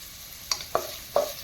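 Onions frying in a pan for a chicken curry, a soft sizzle underneath a few distinct scraping strokes of a utensil stirring them, close and fairly quiet.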